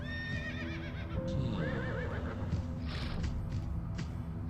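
Horses in the video game Limbo of the Lost neigh with rising and falling whinnies over a steady clip-clop of hooves, fairly quiet and continuous throughout.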